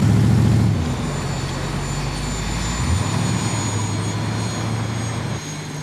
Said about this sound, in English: Plane should touch down any time now.